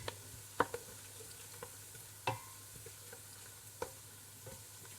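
Caraway seeds fry briefly in a pot before sauerkraut is added for a Moravian dish: a soft, steady sizzle broken by scattered clicks and scrapes of stirring.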